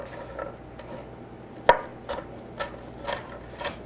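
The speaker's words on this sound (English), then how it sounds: "let's start chopping" Food chopped with a knife on a cutting board in a home kitchen, one sharp knock followed by several lighter, evenly spaced cuts, close and alone.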